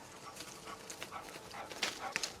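Puppies' short yips and whimpers come in several quick bursts, moderately close over faint background noise.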